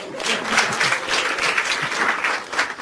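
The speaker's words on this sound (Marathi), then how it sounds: "टाळ्या वाजवा एकदा." An audience at a Marathi stand-up comedy show breaks into lively applause. The clapping is dense and fairly close, and it holds steady for nearly three seconds.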